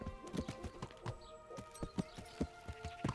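Steady clip-clopping of horse hooves in the video game Kingdom Come: Deliverance, quick rhythmic hoofbeats at a trot, fairly faint and close with a light metallic ring under them.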